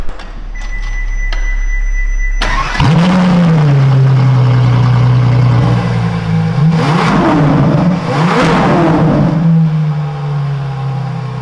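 A LaFerrari hybrid supercar fires up with a sharp crank and bark, settles into a loud, close idle, then gets several quick rising revs before dropping back to a steady hum, heard inside the car.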